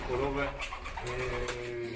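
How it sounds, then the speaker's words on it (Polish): Pigeons coo nearby in soft, low, throaty calls that overlap and repeat over a quiet background. "gołębie"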